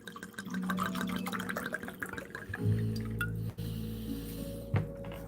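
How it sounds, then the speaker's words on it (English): Chianti red wine pours into a glass in a short, close, wet trickle with drips, over steady kitchen background noise and a few clinks, with no talk. "So I have my glass. Let's pour out the Chianti."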